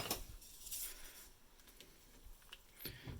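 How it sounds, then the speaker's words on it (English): Beef and garlic are stirred in a soup pot for Korean beef and radish soup, quiet metallic clinks and scrapes of a utensil against the pot, faint and intermittent with soft handling noise between. "We are going to add our beef. I'm going to give that a stir."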